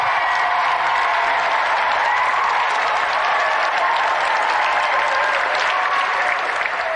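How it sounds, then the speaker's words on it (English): A television studio audience applauds a special guest, racing driver Johnny Herbert, with loud, dense, sustained clapping that fills the entire stretch without pause. "Another round of applause for our special guest, Johnny"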